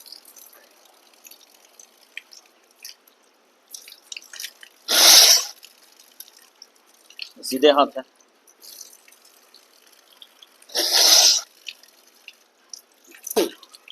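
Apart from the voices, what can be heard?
blowing water out of nose during ablution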